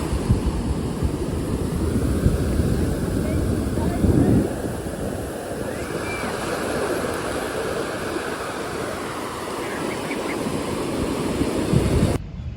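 Ocean surf rolling in at Santa Monica beach, a loud, steady wash of breaking waves with wind rumble against the microphone, lasting the whole stretch.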